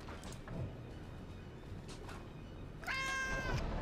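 A single clear cat meow near the end, a drawn-out tonal cry that is fairly close, rising over a low rumbling background during World of Warships play, with no talk.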